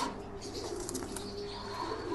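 A pigeon recovering from post-laying leg weakness coos softly in low, rounded murmurs close by, with faint bird chirps and a constant background hum.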